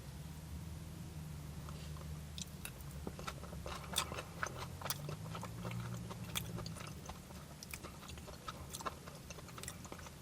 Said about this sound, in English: let's try some of the fish with the curry sauce